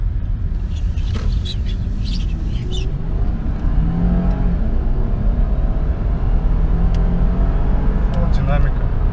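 A Japanese car such as a Skyline, Mark X or Crown Athlete accelerates steadily while driving, its engine drone and low rumble rising from inside the cabin under constant road noise, with no talk heard.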